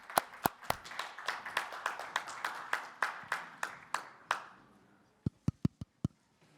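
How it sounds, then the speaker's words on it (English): Sparse clapping from a small audience greets a panel taking the stage at an NFT conference, distinct individual claps at an uneven rhythm that thin out, pause, then return as a few isolated claps, fairly faint. "give them a big hand of applause"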